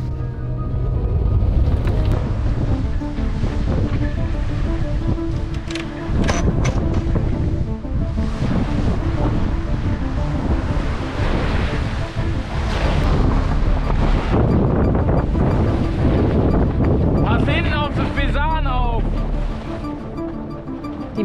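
Strong wind roars continuously over a sailboat at sea on the way to Nevis, with the dull rush of water and hull under it, loud and steady throughout.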